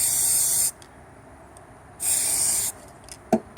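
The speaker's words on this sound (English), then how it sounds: "So let's spray this on." Two long hissing bursts from a spray paint can, separated by a pause, followed by a couple of light clicks and rattles close by.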